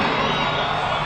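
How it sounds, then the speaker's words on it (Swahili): A large outdoor crowd of students at a Kenyan presidential ceremony cheers and ululates in a dense, steady roar, loud and close for a brief moment. "Shangwe na vigelegele."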